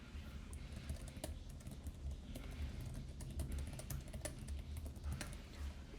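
Rapid clicking of keys on a home computer keyboard, a steady run of quick close-up taps with irregular rhythm over a low background hum, with no talking.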